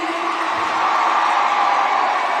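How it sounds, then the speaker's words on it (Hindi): A large audience at a Guruji Student Credit Card distribution event with Chief Minister Hemant Soren gives steady, dense crowd noise with whoops and cheering, loud and continuous throughout. "जोरदार तालियां बजाते रहिए।"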